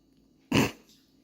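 A dog named Calvin lets out a single short, breathy huff or low bark, close and fairly loud, in an otherwise quiet room.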